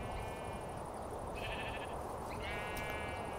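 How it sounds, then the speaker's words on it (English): Repeated sheep bleats from a medieval survival game, a couple of wavering calls standing out over a constant hissing ambient bed with a faint high steady tone. "So many sheep."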